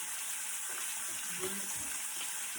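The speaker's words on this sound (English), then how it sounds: "we're going to stir our grits again" A pot of grits stirred on the stove, giving a soft continuous bubbling hiss with a few faint scraping strokes, close and fairly quiet.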